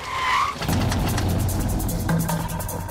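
A car swerves on a road with a sustained tire screech and roaring engine, loud and close for a few seconds, with no speech.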